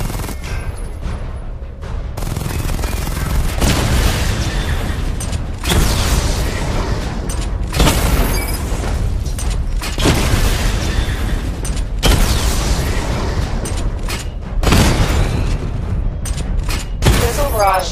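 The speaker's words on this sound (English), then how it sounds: "Charge the missile barrage to level 2 to destroy up to 4 targets at once." Batmobile missile barrage in Batman: Arkham Knight, a run of heavy explosions and mechanical whooshes in repeated loud clusters over roughly eighteen seconds, dense and close, with brief pauses between volleys.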